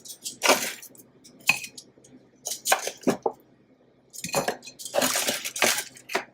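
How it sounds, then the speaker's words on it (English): Baked chicken wings set into a bowl, giving a series of close clinks and soft thuds against the dish, arriving in uneven clusters with brief quiet gaps. "So I'm gonna just place these in the bowl."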